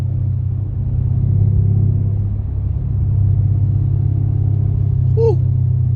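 A big Mercedes CL550 coupe cruises through bends on a hilly road, its engine a steady low rumble heard from inside the cabin throughout, with a brief higher tonal squeak near the end.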